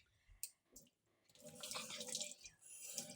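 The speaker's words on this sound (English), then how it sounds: "Okay, we're gonna water it." Water poured onto a potted plant, a soft close splashing and trickling that starts after a couple of faint taps and runs on quietly to the end.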